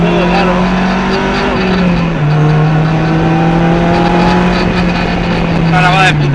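Onboard a Lotus Elise S2 on a road near Los Arcos, Navarra, the engine holds a loud steady drone that dips and climbs through revs, with broad road and wind noise underneath and a brief squeal near the end.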